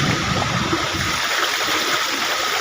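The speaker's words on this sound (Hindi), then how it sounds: "देखो यहीं पर से पानी जाके गिरता है।" Water pours down at Kakolat waterfall, a loud, constant rushing roar from close by, with a brief muffled rumble early on and no voices.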